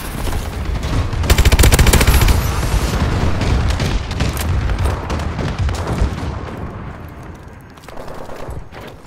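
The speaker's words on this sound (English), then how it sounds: "Enemy bombing run overhead!" Enemy bombing run in Call of Duty: Advanced Warfare, a loud barrage of booming explosions and rattling gunfire, densest early and continuing in rolling blasts.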